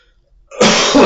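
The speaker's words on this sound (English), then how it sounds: "Sorry to bust the intro into this with a cough." One harsh, close cough bursts out suddenly after near silence, loud and raspy, lasting about half a second.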